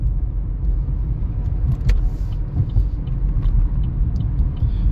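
Car passing a cyclist on the road, a low rumbling engine and tyre noise swelling and fading close by, heard from the bicycle with road rumble throughout.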